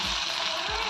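Tomato curry fries loudly in a covered pan, a dense steady sizzle with a continuous oily crackle and no talk.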